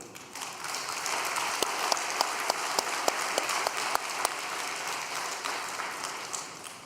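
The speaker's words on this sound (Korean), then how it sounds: "정말로 본이 되는 지도자를 위해 박수 한번 올립시다" A church crowd claps steadily in sustained applause, a dense, even patter with a few sharper individual claps standing out, continuing throughout.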